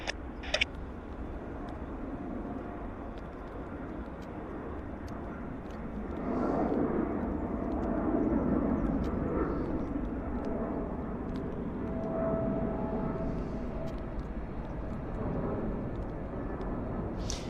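A Boeing 777 airliner takes off and climbs out at Vancouver Airport, a broad distant jet roar that swells midway and then holds steady, with no voices over it.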